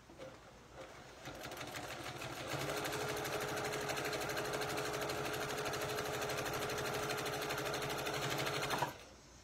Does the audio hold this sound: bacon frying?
no